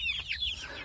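A single chicken in a chicken tractor gives a short, bright cluck or squawk, close and brief, over a low background rumble.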